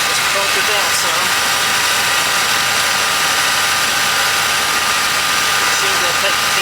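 Car engine idling up close, a loud steady drone with a high whine and constant hum throughout, while a person speaks over it.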